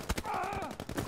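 Gunfire in the video game Battlefield V: a few sharp shots crack in quick succession around a brief tonal in-game sound, fairly faint, with no speech.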